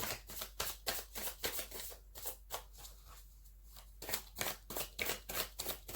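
Tarot cards are drawn from a deck and shuffled, giving quick papery riffles and slaps in steady bursts with a short quieter pause in the middle, close and clear with no talking.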